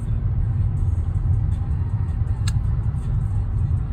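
A steady, loud low rumble of road traffic comes from inside a car stuck in a jam, with constant engine drone and faint higher noises above it.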